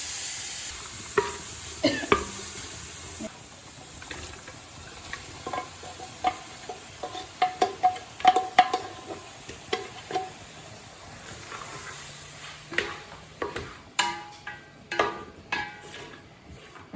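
Beef fry with meat masala and pepper sizzles in a pan while being stirred, a steady frying hiss broken by repeated scraping and clinking strokes at an uneven rhythm, close and clear.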